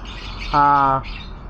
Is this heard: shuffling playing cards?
no